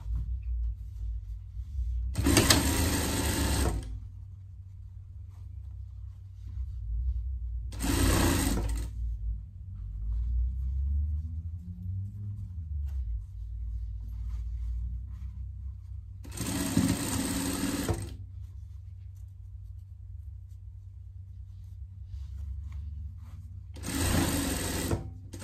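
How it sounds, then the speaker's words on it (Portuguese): A sewing machine topstitches a denim pet vest in four short loud bursts of rapid stitching, separated by quiet pauses with a low background hum. "você pode trocar a linha da sua máquina para fazer o pressponto aqui"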